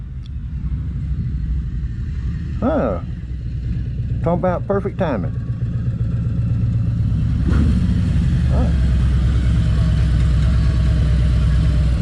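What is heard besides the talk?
Harley-Davidson motorcycle arriving and idling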